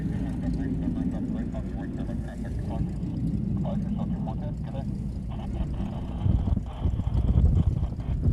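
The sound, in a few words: Korean Air Boeing 787 Dreamliner departing Honolulu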